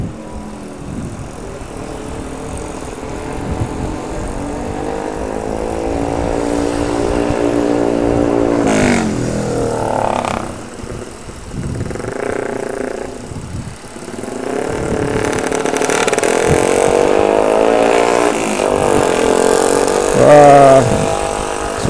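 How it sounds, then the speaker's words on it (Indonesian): Motorcycles on a mountain road toward Kopeng near Salatiga during a Sunday morning group ride, engines droning and revving with rising and falling pitch, passing fairly close and loud, with some talk in between. "Udah mulai kedengeran nih anak-anak motor"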